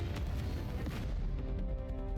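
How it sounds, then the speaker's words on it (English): Massive explosion in a cutscene from the video game NIKKE: Goddess of Victory, cannons destroying a Rapture; a dense, loud low rumble with repeated booming impacts that carries on steadily throughout. "There's a massive explosion, which was a shot purchased from another source"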